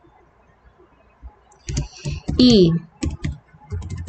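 Computer keyboard typing with clusters of crisp key clicks and tapping, close and moderately loud, while someone speaks Portuguese over part of it.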